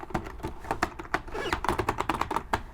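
Typing on the keyboard of a Tandy 1400 LT laptop, a rapid, uneven run of close, crisp key clicks with slightly soft, mushy presses and no talking.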